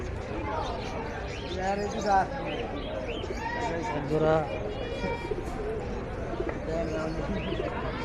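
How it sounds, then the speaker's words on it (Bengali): Pigeons coo and chirp among crowd chatter at an outdoor pigeon market in Hasnabad, Keraniganj, with a steady murmur of voices and bird calls throughout. "এইখানেও বেশ কিছু ভালো মানের কবুতর আছে"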